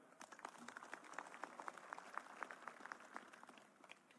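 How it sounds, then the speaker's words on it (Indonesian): Audience applause at a provincial anniversary gathering in Riau, faint and distant, with dense, even clapping throughout. "Kita tepuk tangan dulu."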